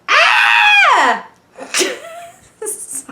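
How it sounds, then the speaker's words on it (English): A person lets out one loud, close scream lasting about a second and sliding downward in pitch, followed by a few short breathy vocal sounds. "Sorry for screaming"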